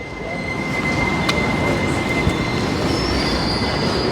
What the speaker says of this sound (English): Wonder if I can sneak across here before the tram comes.